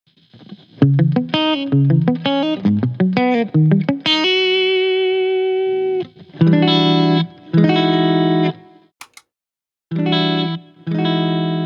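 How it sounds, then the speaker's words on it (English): Electric guitar through a compressor pedal plays short plucked notes and sustained chords with a squashed, even, compressed tone, separated by brief silences. "So you can really hear how it's squishing the tone and giving you that squish compressor sound"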